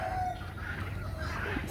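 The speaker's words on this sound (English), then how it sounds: "It's a cream leg bar rooster." A cream legbar rooster gives part of a crow, a drawn-out call heard at moderate distance over low background noise.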